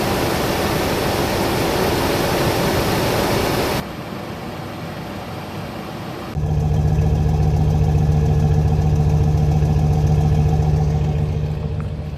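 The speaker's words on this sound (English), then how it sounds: "idle the engine for 10 to 20 minutes" A car engine idles steadily and close by during a test for a leaking heater core, a constant low hum and rumble, with a brief drop in level partway through.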